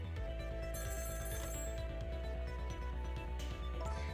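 A telephone rings in the Ghost Trick: Phantom Detective video game, its tone heard steadily against dense, continuous game music for about four seconds.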